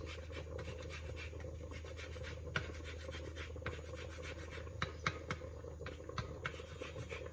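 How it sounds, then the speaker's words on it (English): A fresh garden lemon is grated for zest, giving soft repeated scratchy rasping strokes with a few sharper taps, faint and close with no talk. "Some lemon zest."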